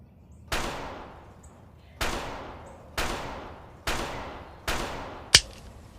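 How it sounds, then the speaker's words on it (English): Five sharp, loud shots from a Nambu Model 60 prop revolver firing .38 Special, spaced about a second apart, each with a decaying echo, followed by a brief high metallic ping. "38 special from the Nambu Model 60 revolver, firing"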